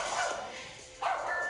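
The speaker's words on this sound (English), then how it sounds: "My dog is my alert dog." A pet dog gives a couple of short yips and barks in a home during an at-home workout, quick and moderately loud, with no one speaking.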